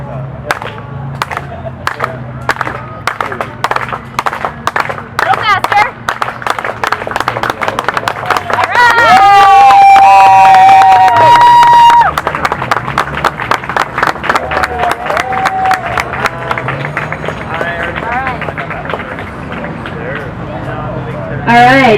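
A crowd at a net neutrality rally performs a slow clap, loud, evenly spaced claps that gradually quicken into a dense, rapid patter, with voices and cheering rising briefly partway through.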